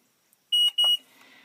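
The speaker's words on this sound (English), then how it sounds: "If I hit it and hold it, it will beep twice and switch over to twine." A John Deere Bale Trak Pro baler monitor gives two sharp, high electronic beeps in quick succession while switching from net to twine mode, close and loud, followed by faint cab noise.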